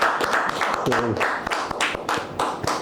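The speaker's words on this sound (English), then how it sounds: "big round of applause to Dr. Pankaj Bhai Lakhani sir" An audience at a homoeopathy question-and-answer session with students and doctors claps for a speaker. The short burst of applause runs under a voice that talks briefly in the middle.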